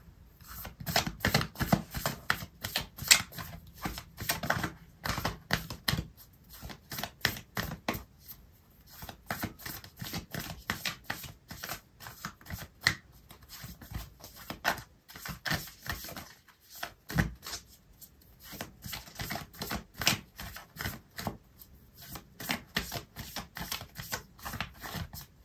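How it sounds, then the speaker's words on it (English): Tarot and oracle cards being shuffled and handled, with dense, continuous papery riffling and tapping clicks that run steadily throughout at moderate loudness, with no voices. "I'm going to pull out an oracle card for you"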